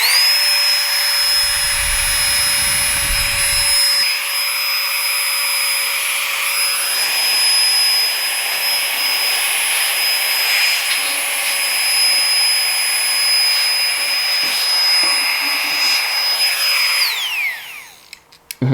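A Giga Pump 2.0 portable camping air pump blows air in a loud, steady, high-pitched whine that runs for about seventeen seconds and then winds down as it is switched off.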